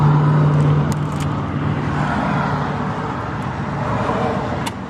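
A 1949 Dodge Coronet with Gyro-Matic automatic transmission idles close by, a low, smooth, quiet engine rumble that holds steady throughout with a faint hum and no talking.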